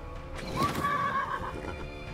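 A horse neighs in the video game Wartales, a loud, clear whinny rising and wavering for about a second, with faint hoof clops and no talk.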